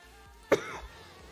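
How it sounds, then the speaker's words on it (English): A single short cough from a man who is still getting over an illness, sharp and fairly close, standing alone against a quiet background. "You can see, still got the cough."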